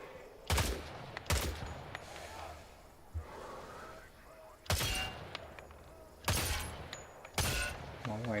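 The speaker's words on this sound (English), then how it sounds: "Shoot the targets ahead, aiming for the helmet to guarantee an instant kill" Sharp gunshots ring out one at a time at irregular intervals, some loud and close, as targets are fired on during a training range in Hell Let Loose: Vietnam; faint breathing and small noises fill the gaps.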